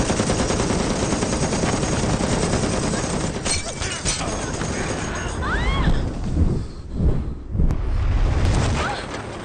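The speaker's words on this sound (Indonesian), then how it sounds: "ia berinisiatif mencegah anak buah Deparaj menembak Saho" Dense automatic gunfire from a gangster action film scene rattles continuously in a loud, rapid roar for several seconds, with explosive bursts toward the end and a voice talking over it.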